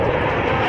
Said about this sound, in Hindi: सबसे पहले हम आपको दिखाते हैं सुखोई लड़ाकू विमान की गर्जना